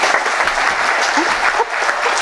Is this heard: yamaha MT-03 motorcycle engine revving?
no